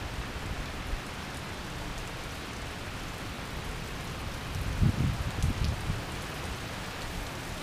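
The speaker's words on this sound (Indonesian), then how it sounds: "Begitu keluar, hujan." Steady rain falling outdoors in Pacitan, Central Java, a continuous soft broadband hiss at moderate level with a brief denser patch of drops near the end, no voices.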